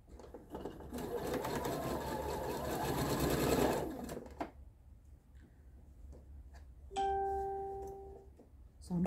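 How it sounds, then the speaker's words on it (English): Sewing machine chain stitching quilt fabric pieces straight through without backstitching, a steady rapid mechanical whirr for about four seconds, then quieter handling clicks and a brief tonal beep. "I'm not back stitching, I'm just going straight through. I'll chain stitch these."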